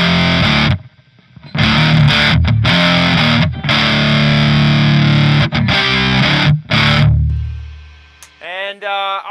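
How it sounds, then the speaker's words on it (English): Electric guitar played through a Fender Twin amplifier on its dirty channel gives loud, thick distorted chords in several sustained bursts with short gaps, then fades and ends with a few brighter picked notes. "the dirty channel sounds much more full and compact and chunky"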